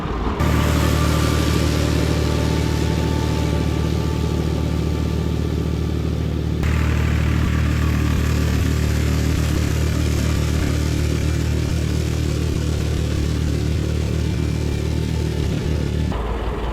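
A Massey tractor engine drones steadily and loudly at close range while mowing a field, holding one constant, dense running tone throughout with no talk.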